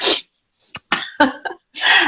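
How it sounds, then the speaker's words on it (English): A person sneezes close and loud, a sharp burst at the start and another at the end, with short gasping breaths and throat sounds in between. "Just about to sneeze."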